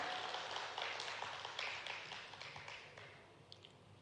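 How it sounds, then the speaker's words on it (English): Faint, distant audience applause at an Indo-French investment summit welcoming the French ambassador. The clapping is a soft, crackling spread of many hands that slowly tapers off. "May we request you all to kindly welcome him with a huge round of applause"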